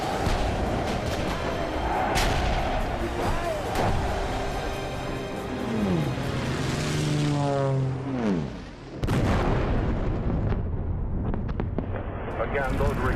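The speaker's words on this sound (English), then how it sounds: "Again, those were explosions overhead." WW2 bombing raid with bomb explosions overhead, loud rumbling blasts and a descending whistle sliding down before a sharp cut, under a voice narrating through the noise.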